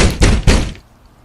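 Three loud, close knocks on a door in a video game, heavy thudding raps in quick succession followed by a brief quiet tail, with no talk.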